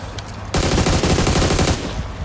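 Automatic rifle fire in the battle royale game PUBG rattles off as a dense, loud burst of rapid shots lasting over a second, followed by lingering game ambience.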